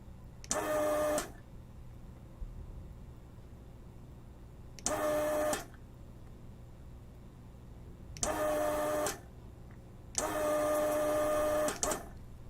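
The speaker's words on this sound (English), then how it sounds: "So there you go, that's the desoldering tool." Weller WXR 3003 desoldering tool removing solder from circuit board contacts, its vacuum pump buzzing in four short mechanical bursts separated by quiet gaps, close by with no talk.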